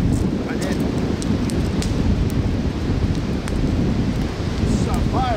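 Strong wind roars across the microphone on a very windy outdoor day at a lean-to shelter by a fire, a constant loud rumbling buffet with a few faint distant chirps.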